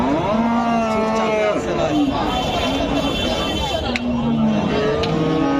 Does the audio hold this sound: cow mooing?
yes